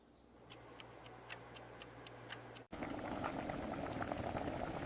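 Water boiling in a kitchen pot with vegetables, a steady close bubbling roar that swells louder after a sharp cut, preceded by a regular ticking clock pattern.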